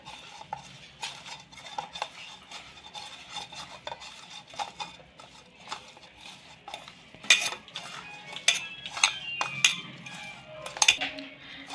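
Soya chunks stirred with salt, chilli powder and spices in a bowl, with soft scraping at first and then sharper spoon clinks and taps against the dish growing louder toward the end.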